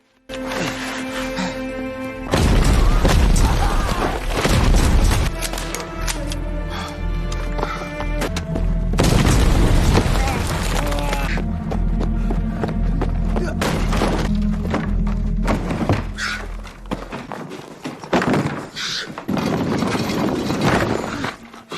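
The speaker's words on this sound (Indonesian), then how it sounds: "Li Zhang He dilempar granat saat bersembunyi, hingga ia terpental keluar." Loud explosions and heavy impacts from a grenade attack in a war film, with booming blasts, crashes and debris rolling across a dense battle soundtrack.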